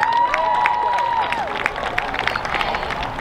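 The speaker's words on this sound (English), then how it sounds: "please give a warm welcome and round of applause to all of our mothers and their senior players" Crowd applause and cheering in the stands at a Virginia high school football game, honoring mothers and senior players, loud and steady with a sustained tone and a voice over it.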